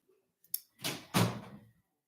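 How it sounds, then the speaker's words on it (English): A door being closed indoors: a faint tap, then a soft swoosh and a firmer thud as it shuts, close by and quiet with no talking. "Please close my door."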